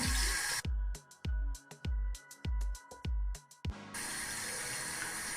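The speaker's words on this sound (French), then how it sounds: "je vais mouiller un petit peu mes cheveux" Water runs from a tap in short repeated bursts while hair is being wetted before combing, each gush splashing loudly for about half a second, then a steadier flow; no voices.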